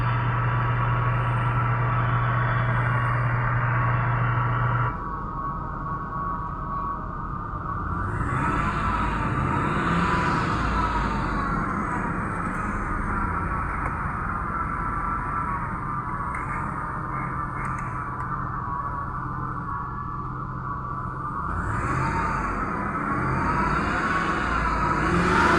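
A Ford Expedition that had trouble starting turns over and then idles steadily. A constant engine drone with faint rattles continues through the whole stretch, and no one speaks.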